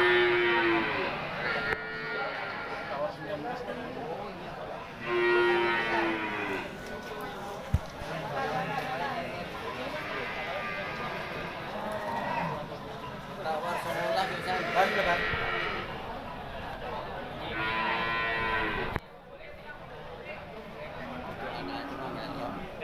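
Bali cattle, a mother with three twin calves at a cattle market, moo repeatedly in long drawn calls at intervals, with a busy crowd and talk underneath throughout.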